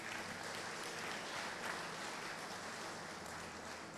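A church congregation applauds during a Thursday evening worship service, a steady, moderately distant wash of clapping that holds evenly for the whole stretch with no voices on top.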